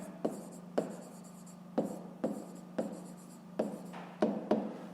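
Pen strokes scratch out asterisks by hand on paper in a Ukrainian fifth-grade maths exercise, about a dozen short tapping scratches in an uneven rhythm, close and clear with no speech.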